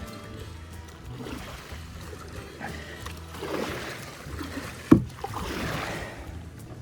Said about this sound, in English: Back to paddling through this aquatic jungle.